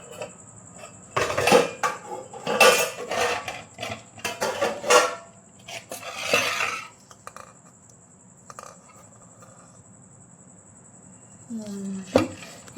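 Dishes and pots clatter and scrape in a sink, with bursts of clinking metal and running water, then a quieter stretch and a final clunk.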